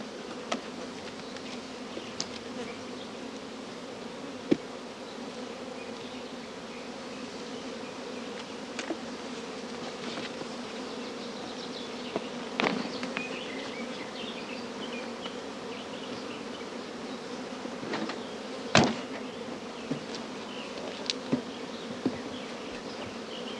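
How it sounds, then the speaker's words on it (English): A continuous, even buzz of many honey bees flying around a hive, with occasional louder passes of individual bees close by. "All flying bees will return to the familiar original hive entrance"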